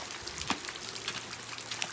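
Heavy rain falls at night on a mountain village, a steady close hiss of drops with scattered sharper spatters and taps on nearby surfaces, continuous throughout and with no voices.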